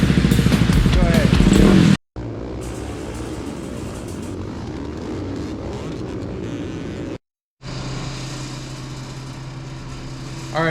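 A KTM engine transplanted into a Honda TRX450R ATV fires up for the first time, running loud and rough with a steady drone and two brief cut-outs, while people talk over it.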